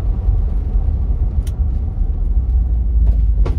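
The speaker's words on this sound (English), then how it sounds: "It's hard to believe this four-speed hydromatic can downshift that quick." A 1959 Cadillac DeVille with a four-speed Hydramatic transmission accelerates hard, producing a loud, close, deep engine rumble that stays heavy and steady for a few seconds.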